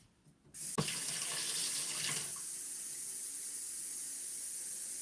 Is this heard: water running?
yes